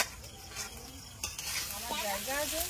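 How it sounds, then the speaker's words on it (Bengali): Chow mein noodles with vegetables and chicken being stir-fried in a pan, a steady close sizzle with scraping stirs, then a soft voice under the cooking toward the end. "চাউমিনটা ভেজে নিয়েছি, এবার কিছুটা সবজি দিয়ে দেবো, কিছুটা চিকেন দিয়ে দেবো।"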